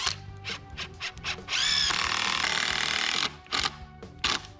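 A power drill drives screws into wood while a play structure is assembled, its whirring bursts rising and stopping in short pulses with a longer sustained run in the middle, close and loud.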